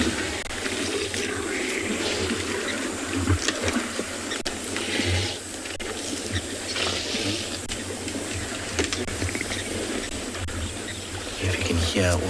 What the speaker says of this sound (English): If you can hear all the water being splashed, them slurping.